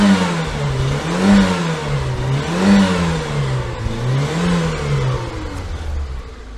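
A cold car engine cranks and catches, then idles and rises and falls in a few revs, running steadily up close with no talking.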